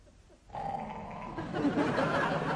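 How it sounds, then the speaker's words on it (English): Low, rumbling dog growl from a TV sitcom scene, starting after a brief quiet moment and continuing steadily, growing slightly louder and rougher toward the end. "Why does that dog keep growling, Laura?"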